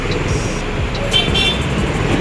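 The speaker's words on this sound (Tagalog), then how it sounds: "Nabot na tayo ng traffic." Dense road traffic in Manila at dusk, with a constant rumble of engines, passing vehicles and brief horn toots close by, steady and loud throughout.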